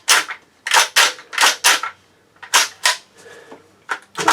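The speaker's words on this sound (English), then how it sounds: "I'm going to check to see if I can pull the bolt back without it catching on that first round" Metallic clacks and scrapes of an AK-47 bolt being worked with a Pioneer Arms waffle magazine inserted, the bolt catching on the first round; about ten sharp, close bursts in uneven rhythm with brief pauses between.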